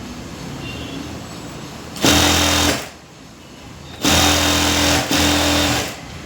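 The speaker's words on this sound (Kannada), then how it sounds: "ಇದು ಒಂದು ರೆಡಿ ಸ್ಟಿಚ್ ಹಾಕೊಳ್ಳೋಣ." An electric sewing machine stitching fabric in two bursts, the second briefly interrupted, each a loud steady mechanical whir with a humming tone, separated by a quiet pause.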